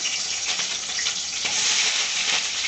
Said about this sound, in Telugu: ఉల్లిపాయ ముక్కలు, కొద్దిగా కరివేపాకు వేసుకొని ఒక 5 minutes ఫ్రై చేద్దాం